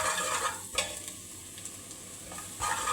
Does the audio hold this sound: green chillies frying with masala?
yes